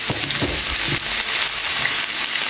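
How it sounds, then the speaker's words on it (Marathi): Finely chopped onions dropped into hot oil for a Goan fish ambotik curry, a loud continuous close sizzle with a few crackling bursts and faint stirring, no voices. "तेल जाला हिंगा बरें गरम. तर घालता हितून ऑनियन फायनली चॉप्ड ऑनियन्स"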